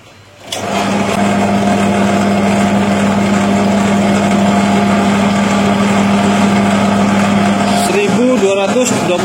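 An NRT-PRO 13mm bench drill press runs at 1280 rpm, starting up sharply into a loud, steady motor whine and hum that holds evenly, then winds down near the end as a voice speaks over it.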